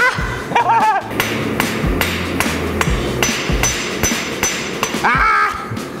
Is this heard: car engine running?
no